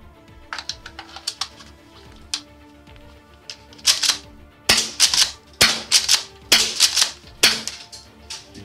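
An airsoft M870 mini pump shotgun is cycled and fired close by: sharp plastic clicks and clacks, then a run of louder, spaced snaps near the end, with no speech.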